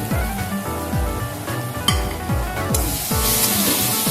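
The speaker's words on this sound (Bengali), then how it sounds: "দিয়েছি 1 চামচ জিরে গুঁড়ো, 1 চামচ ধনে গুঁড়ো, অল্প একটু কাশ্মীরি লঙ্কা গুঁড়ো আর লাল লঙ্কার গুঁড়ো আছে। এই মশলাগুলো এখন আমি দিয়ে দেবো।" Ground cumin, coriander and Kashmiri and red chilli powders sizzle in hot oil for a Bengali colocasia and prawn curry, a loud steady fry broken by rhythmic scraping stir strokes about every half second.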